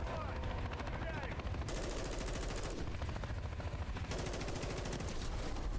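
Sustained automatic gunfire in Call of Duty: Modern Warfare 3 aimed at a helicopter, loud and continuous rapid bursts over a rumbling battlefield din with bursts rising and falling in intensity throughout.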